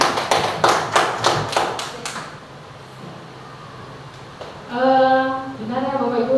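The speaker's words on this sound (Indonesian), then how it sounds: "Boleh tepuk tangan buat Bu Susi." A room of teachers at a training session claps briefly for a colleague, several seconds of loose clapping that quickly fades, followed by a sustained electronic tone.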